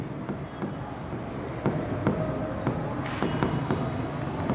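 A pen scratches across paper while an accounting journal entry is written, with soft intermittent strokes and taps running beneath a man's ongoing speech.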